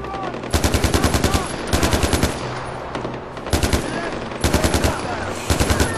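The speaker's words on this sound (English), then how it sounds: "There's just a lot of gunfire" Bursts of automatic gunfire in the video game Far Cry 4, loud rapid volleys repeating every second or so with brief gaps between them.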